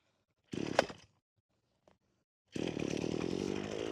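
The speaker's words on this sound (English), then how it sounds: "We're going to see how this pole saw does." A Wild Badger Power gas pole saw being started for tree trimming: a short rev burst, a pause with a faint click, then the small two-stroke engine catches and runs steadily, close and loud.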